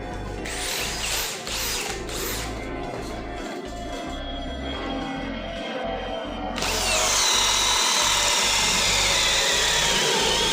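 A cordless drill in drilling mode at speed setting 2 bores a 25 mm spade bit into thick mahogany, grinding in stuttering bursts and then revving into a loud, sustained high whine, close up.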